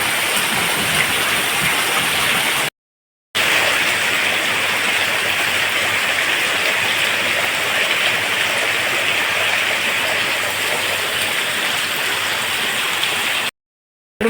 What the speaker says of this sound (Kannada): ಜೋರು ಮಳೆ ನೋಡಿ